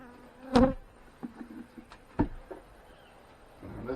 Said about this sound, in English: Second super is full of bees.